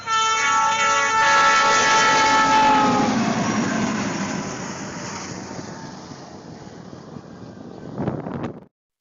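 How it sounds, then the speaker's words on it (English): A snow-clearing train passes on a wintry railway, its horn sounding loud and tonal at first over the rumble and rattle of wagons, the whole mass fading into the distance before a brief clattering burst near the end. "Even trains have their own snow-clearing giants."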